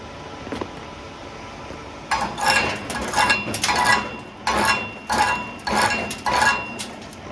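Sharp metallic knocks from a chipping hammer knocking slag off a 7018 stick weld come in a rapid, irregular burst, with clinking and rattling between strikes, close by and loud.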